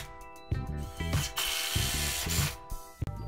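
A power drill driving fasteners to secure 2x6 boards to a railing for a DIY wheelchair ramp, heard as several short, close, buzzing bursts of the motor separated by brief pauses.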